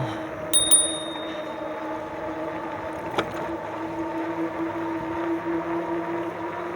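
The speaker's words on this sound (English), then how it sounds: "So hit him with the bell." A bicycle bell on a RadRover 5 fat-tire e-bike rings sharply twice near the start, then once more, over steady riding and motor noise on a forest preserve trail at about 15 mph.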